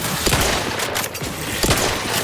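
Gunshots from the video game Outer Worlds 2 crack sharply over a dense, noisy battle background, two or three distinct reports within a couple of seconds, fairly loud with no voices.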